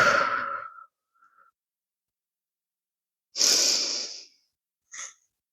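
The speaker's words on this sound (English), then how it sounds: "let's take 3 rounds of deep breath here." Deep breaths during a yoga workout: a long audible exhale, a pause, then another strong breath and a brief short one after it, close and fairly loud against silence.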